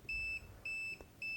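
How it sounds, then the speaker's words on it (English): A digital multimeter detecting a live circuit beeps a high electronic tone three times in a steady pulse, each beep about a third of a second long, loud and close. "So when I go in here, it should beep."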